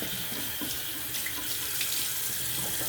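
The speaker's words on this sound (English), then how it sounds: "what I do for my brush is under running water, I kind of like turn it like this and kind of like get everything out of it." A shaving brush is rinsed and turned under a running tap, producing a steady, close hiss and splash of water pouring into a sink, with no voices.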